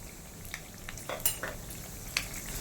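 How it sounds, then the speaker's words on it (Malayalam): Mustard seeds crackle and pop in hot oil while raw rice is stirred in, for a Kerala-style jackfruit seed and snake gourd thoran; soft continuous frying with a few sharp pops, close and fairly quiet, no talking. "കടുക് പൊട്ടുന്നുണ്ട്, അതിൻ്റെ കൂടെ നമുക്ക് കുറച്ച് അരി ഇട്ട് കൊടുക്കാം കേട്ടോ."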